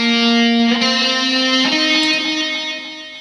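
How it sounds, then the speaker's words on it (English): Lead guitar played through track echo set to repeat every eighth note plus reverb, sustained distorted notes ringing with a steady echoing tail, close and loud with no talking. "You can hear the echo on there."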